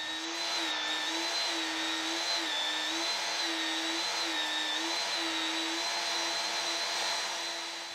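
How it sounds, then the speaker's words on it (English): Belt sander shaping wooden clamp handles, a loud continuous motor whine with a steady belt hum and a rising, falling pitch as the wood is pressed and eased against the belt, running nonstop throughout. "And I'm doing all of that on the belt sander."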